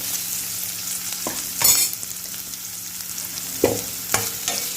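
Mangalore-style chicken sukka sizzles steadily in a pan while a spoon scrapes and stirs it in a few short strokes, close and fairly quiet, with no talking.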